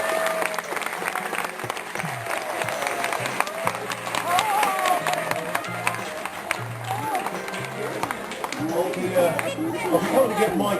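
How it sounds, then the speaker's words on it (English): A studio audience at a chat show applauds the crew, sustained clapping mixed with crowd chatter and voices talking over it. "Big round of applause for the crew, ladies and gents."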